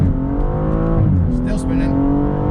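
A BMW M235i accelerates hard, its engine roaring loudly and steadily as the pitch climbs, dips briefly at a shift and climbs again, heard from inside the car.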